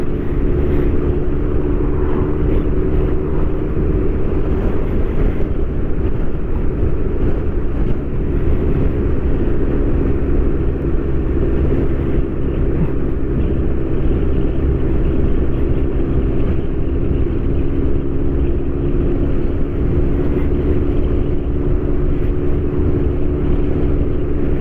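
Kawasaki GTR1400 motorcycle with a Delkevic full exhaust system cruising in top gear, a steady low engine drone and rumble with wind noise, continuous and loud throughout.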